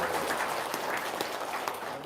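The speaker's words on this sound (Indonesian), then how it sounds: "Tepuk tangan dong." Brief applause from a small audience, a close, fairly loud scatter of clapping hands with a few sharper individual claps, and no talk.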